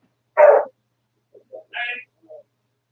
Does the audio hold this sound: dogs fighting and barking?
yes